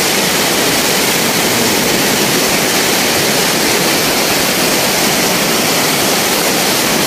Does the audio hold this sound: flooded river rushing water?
yes